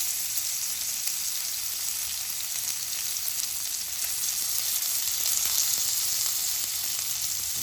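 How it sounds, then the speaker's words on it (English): A chuck roast sears in a hot pan, its sides browning for a smoked pot roast, giving a loud, continuous hissing sizzle up close with no voices. "Just sear it for just a second on the sides, guys."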